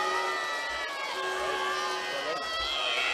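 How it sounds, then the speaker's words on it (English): Monivea Abbey supporters at the Galway intermediate football final cheer as the trophy is lifted. The crowd noise is a distant, steady roar with scattered shouts and whoops, and a voice talks over it. "Monivea Abbey cheer as the trophy is lifted one more time"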